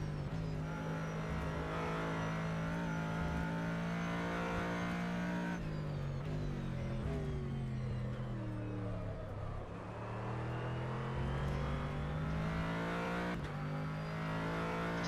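A Corvette GT race car engine in the rFactor 2 sim racing game drones loud and continuous, its pitch dropping and climbing through gear changes and lifts as the car laps, with no talk.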